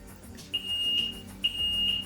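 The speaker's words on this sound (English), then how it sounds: "Backup alarm." Two separate high-pitched electronic beeps, each held for about a second, from the backup alarm of a Ventrac 4500Z compact tractor, over a low steady rumble.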